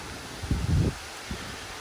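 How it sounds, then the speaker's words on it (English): Wind gusting and rustling garden leaves on a hot day in two short low bursts, the longer one first, over a steady faint outdoor hiss. "But you see, it's very windy here today."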